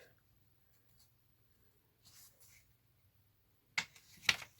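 Printed paper mini planner pages are folded by hand in a quiet room, with a soft rustle midway and then two sharper, close crinkling creases near the end.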